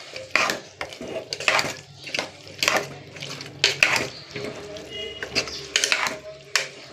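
Spoon stirring chopped coriander into a cooking dish in a metal pot, irregular scraping and clinking strokes against the pan at close range, with faint background murmur between strikes.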